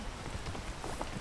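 Steady patter of rain falling on a surface in the video game PEAK, a constant even hiss with no voices.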